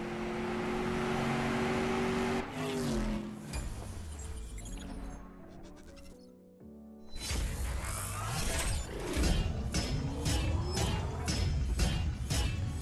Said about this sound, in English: All right, we're racing the Porsche.